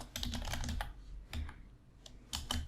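Quick bursts of keystrokes on a computer keyboard as a name is typed, close and clear, with short pauses between clusters of clicks.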